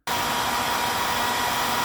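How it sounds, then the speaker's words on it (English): A hairdryer blows steadily and loudly up close on stuck book pages, a continuous even whoosh with no talking over it. "unstuck those pages with a hairdryer"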